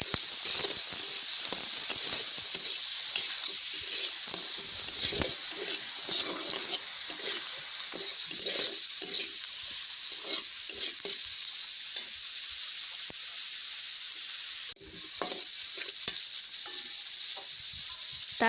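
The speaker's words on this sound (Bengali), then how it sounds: "তারপর সবজিটাও দিয়ে দিব, দিয়ে আবারও নাড়াচাড়া করতে থাকবো।" Maggi noodles and vegetables frying in a pan give off a steady, loud sizzle and hiss, with repeated scraping stir strokes throughout and no talking.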